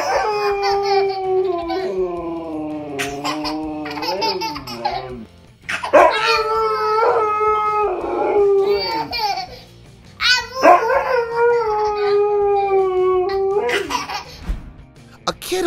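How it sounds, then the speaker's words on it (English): A husky howls in long wavering cries alongside a toddler's voice, the two overlapping loudly and close by, with laughter mixed in. "son, Braxton, and their family dog, Boston, began howling together."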